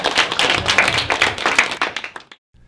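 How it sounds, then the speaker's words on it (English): Audience applause welcoming the actors: a dense burst of many hands clapping, loud and close, holding steady for about two seconds before stopping abruptly into silence. "Welcome all the actors with a round of applause."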